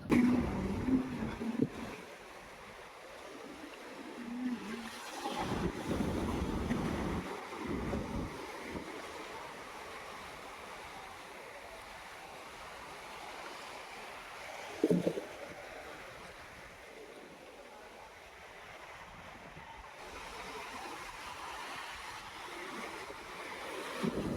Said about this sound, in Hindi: आए अब हम दोबारा चलते हैं पानी की तरफ और सुनाते हैं आपको इसकी लहरों का शोर